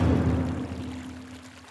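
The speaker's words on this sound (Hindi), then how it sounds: "लगता है इसने फिर से नल खुला छोड़ दिया।" Water pouring steadily from a tap left open in a home, a close continuous rush that fades slightly over its short length.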